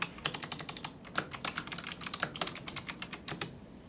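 Quick, irregular clicks of a computer keyboard as a password is typed, a close, fairly quiet run of keystrokes with short pauses, no voices.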